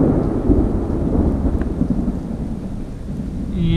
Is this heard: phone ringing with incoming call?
no